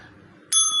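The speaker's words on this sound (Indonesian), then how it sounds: "Ini ada lonceng." A small bell rings once, loud and close after a near-silent pause, its bright tone holding steady to the end.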